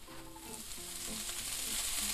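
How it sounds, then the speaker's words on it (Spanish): Onion and garlic frying together in hot oil for a hake dish, a steady close sizzle that swells slightly louder partway through, with no talking. "Y ahora sofreímos todo junto, la cebollita y el ajo, un poquito más"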